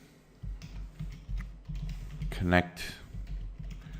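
Keyboard typing on a computer while entering a MySQL database error message, a run of soft, evenly spaced key clicks in the foreground, with a person talking over them.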